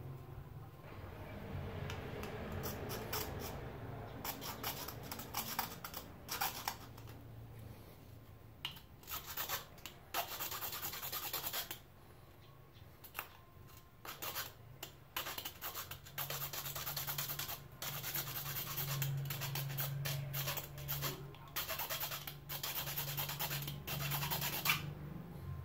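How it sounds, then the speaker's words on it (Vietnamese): A hand saw cuts through a plastic water pipe, producing a run of rapid, raspy back-and-forth scratching strokes with short pauses, close and moderately loud. "Rồi, giờ mình cưa đi."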